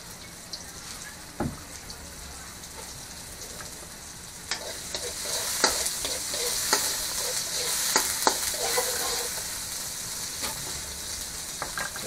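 Squid for adobong pusit sizzling in a pan as it is stirred, with faint frying hiss under repeated scraping clicks and taps of the utensil, growing busier toward the end.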